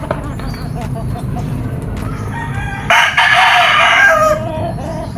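A Boston Banderado gamefowl rooster at a game farm booth crows once for over a second, a loud harmonic call rising above steady crowd chatter and background noise.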